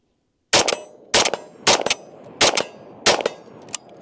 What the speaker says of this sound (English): I'm gonna shoot 5 rounds because I have 5 left in this mag at the steel at 50